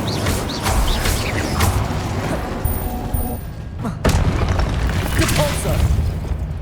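A fire spell goes off in the Hogwarts Legacy video game, a burst of booming magical energy with crackling pops inside a busy, continuous bed of combat effects.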